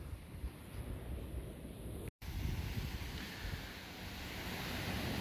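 Ocean surf breaking on a beach about twenty feet away beside salt-tolerant dune plants, a steady full roar of washing waves with wind buffeting the microphone, briefly cut out by a split-second dropout.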